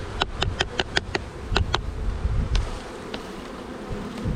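Honeybees in an opened beehive, a dense buzzing drone with close wingbeat bursts and sharp clicks from handling the hive frames, loud and near.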